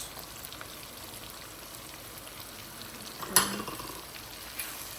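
Pepper sauce with basil paste and salt softly sizzling in a pan, a faint crackle running throughout, with a single sharp clink of a utensil being stirred near the end.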